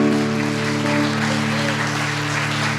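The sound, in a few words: congregation applauding in church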